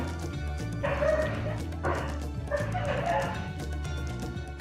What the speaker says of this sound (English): I don't know if you can hear the dogs going wild.